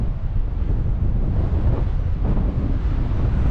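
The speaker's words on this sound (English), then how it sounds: "I know it's windy, sorry about that" Strong wind buffets an outdoor microphone in a steady, loud, low rumble that barely lets up, while no voice is heard.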